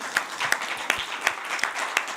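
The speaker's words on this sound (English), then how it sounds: "We can clap hands for that." Audience applause at a press conference, a brief, moderately quiet patter of clapping with a few sharper distinct claps standing out.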